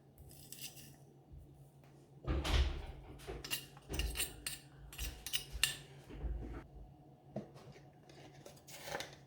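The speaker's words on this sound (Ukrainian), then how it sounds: "Тепер вичавіть часник." Crunching, squeezing sounds of garlic being pressed over cucumbers for pickling, a few short bursts close by in an otherwise quiet kitchen.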